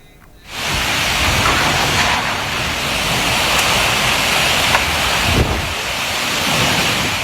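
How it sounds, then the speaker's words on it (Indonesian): Heavy rain lashes down with strong storm wind in Jember, East Java, a dense, roaring wash that begins abruptly and holds steady, with gusts swelling briefly near the end. "Video amatir merekam saat hujan deras disertai angin ribut melanda kota Jember, Jawa Timur"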